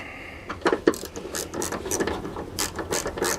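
A ratchet tightens 10 mm nuts onto mounting studs while a Chevy Blazer S10 heater blower motor is installed, with rapid close clicking bursts in short runs and brief pauses, no talk.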